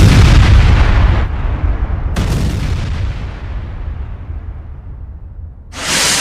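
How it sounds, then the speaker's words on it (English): A loud, deep explosion booms and rumbles away into a long fading tail, followed by a second sharp blast and another burst near the end. "we heard a loud explosion in the distance"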